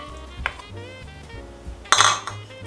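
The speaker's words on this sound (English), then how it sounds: "and beat until smooth." Butter and cream cheese are beaten in a bowl, heard as a few intermittent clinks and scrapes of a utensil against the bowl, with a louder burst of clattering near the end.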